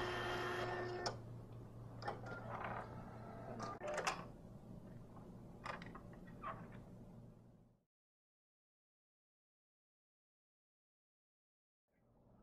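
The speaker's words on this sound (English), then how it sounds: "Once the driver has installed, print a sample card." Datacard SD/CD series card printer printing a sample card, whirring and clicking mechanically for several seconds before falling silent, with a faint restart at the end.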